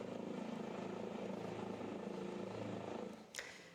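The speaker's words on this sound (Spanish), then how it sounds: "tuvo que ser un helicóptero quien acudiera al rescate" Rescue helicopter over inaccessible terrain, steady rotor thumping and engine drone at moderate distance that cuts away near the end.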